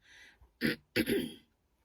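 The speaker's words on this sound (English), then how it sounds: "Bit of a cough going on." Someone clears their throat and gives a couple of short, close coughs in quick succession, then silence.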